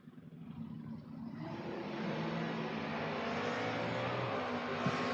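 Two drag racing cars, an S10 pickup and a Camaro, launching side by side at a drag strip, engines building from a rumble to a sustained loud roar that fills the air for several seconds.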